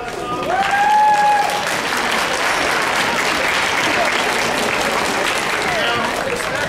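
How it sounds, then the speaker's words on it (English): Students clapping for their parents at a fifth-grade band concert, a steady wash of applause filling the room, swelling in the first second and then holding level, with a brief voice rising above it at the start. "Hey, you students, applaud your parents for helping us out with that song."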